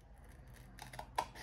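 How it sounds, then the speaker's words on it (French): Scissors snipping through a paper envelope flap to trim the opening flush, a few close, crisp cuts with the sharpest snip near the end, no talking. "on va vraiment couper à ras."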